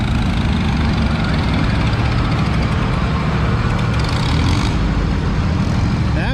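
Big pulling tractors such as an Oliver Super 99 idle at a tractor pull on a wet, slippery track, a loud, steady low engine rumble that fills the whole stretch.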